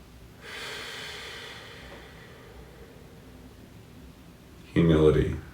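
Slow breathing during meditation: one long, soft inhale through the nose heard close up, then quiet, then a voice begins speaking.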